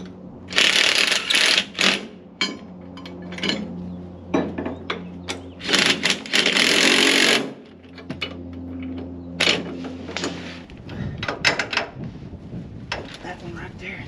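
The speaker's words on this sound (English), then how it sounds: "let's bolt it all up." Parts being bolted onto the rear end of a dirt track street stock race car in a cold shop, with bursts of ratcheting and clanking metal mechanism sounds, some near and loud, between quiet pauses and someone talking.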